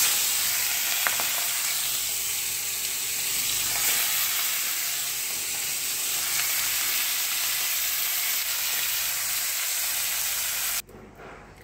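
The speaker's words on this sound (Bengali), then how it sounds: "চিংড়ি মাছগুলো আমি ভেজে নেব।" Prawns coated in salt and turmeric fry in oil in a kadai (wok), a dense continuous sizzle and hiss held close and steady, cut off abruptly near the end.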